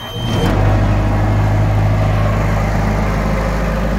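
A Bobcat S510 skid steer engine cranks briefly, then catches and settles into a loud, steady diesel idle that drones on close by.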